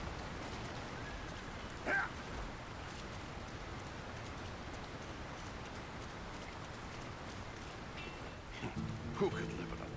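Persistent rain falls over a town in the video game Lord of the Rings: War in the North, a dense, even hiss of rainfall steady for the whole stretch, with a couple of brief louder knocks standing out against it.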